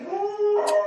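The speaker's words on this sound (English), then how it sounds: "please excuse my dogs barking for whatever reason" Dogs in a home howl and yip in a short whining burst, fairly close and moderately loud, with no talk over them.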